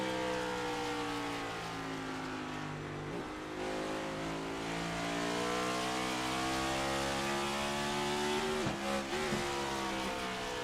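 A race car engine in a racing video game, revving loud and steady with rising pitch and a quick double downshift near the end, alone with no talk.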